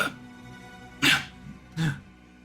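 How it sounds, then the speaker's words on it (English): Two harsh, forced, troubled coughs, close and distinct, separated by a short pause over a quiet background. "you hear what sounds like hacked,"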